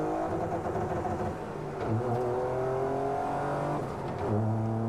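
A vehicle drives with a steady engine-like drone and shifting harmonic tones that rise and fall like a combustion car, heard close and continuous without talk.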